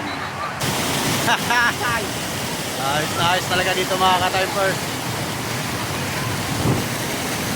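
Strong river water rushes at the Balanac River dam in Magdalena, a loud, continuous broadband roar throughout, with someone talking briefly over it and children's voices faintly in the background.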